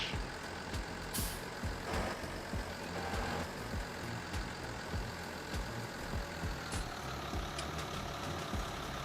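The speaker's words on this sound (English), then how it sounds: "Some of these tractors are louder than others." A tractor engine in the Farming Simulator 19 video game runs with a steady, rumbling drone, with faint beeps and clicks on top and no talking.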